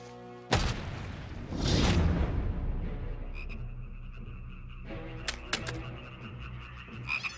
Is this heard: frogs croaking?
yes